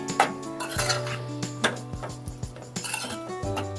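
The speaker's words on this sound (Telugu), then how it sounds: "కొంచెం సాల్ట్ వేస్తున్నా వేసి మంచిగా కలుపుకొని" A spoon stirring salt into masala in a metal pan for dried fish tomato curry, with repeated clinks and scrapes against the pan in an uneven rhythm over a faint sizzle.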